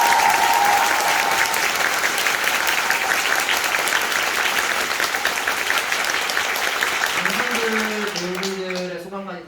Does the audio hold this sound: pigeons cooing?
no